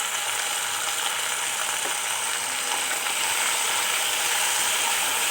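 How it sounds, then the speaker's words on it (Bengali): Taro stems frying in a pan with salt and turmeric give a steady, dense hiss and crackle of oil throughout, with no talking. "গাঠিগুলোকে আমি একটু লবণ দিয়ে ভাজবো এবং হালকা একটু হলুদও অ্যাড করে দিচ্ছি"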